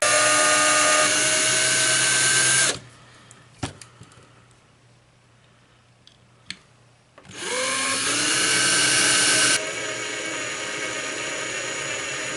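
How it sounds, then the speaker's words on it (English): A power drill bores into the base of a Hot Wheels die-cast toy car, whining loudly and steadily near the microphone, then stopping for a few seconds of near quiet with small knocks before a second long burst of drilling. "So let's drill this sucker out."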